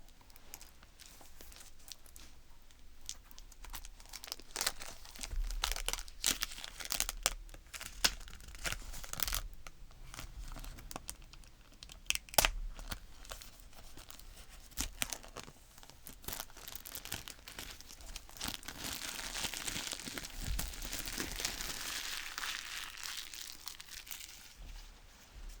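Close, continuous tearing and crinkling of packaging as a boxed copy of Emily Dickinson's Envelope Poems is unwrapped, with sharp rips and rustles spread across the whole stretch.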